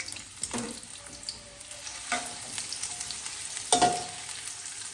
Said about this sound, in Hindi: उसके बाद हम इसमें प्याज डाल देंगे और प्याजों को लाइट ब्राउन कर लेंगे।